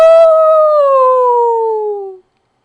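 A storyteller imitates a wolf howl with a single long, loud, clear "ah-woo" sung by voice, sliding slowly downward in pitch before cutting off into silence.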